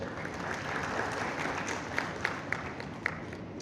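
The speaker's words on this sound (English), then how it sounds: "shouldn't we give UPDF a warm applause for this ambition?" Audience at a tourism conference in a hotel hall breaking into warm applause, a continuous mass of clapping with a few distinct louder claps close by.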